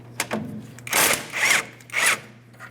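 18 mm wrench working the two caliper bracket mounting bolts on the rear brakes of a 2008-2016 Chrysler Town & Country, giving three close, rough grinding turns with short pauses between them and no talk.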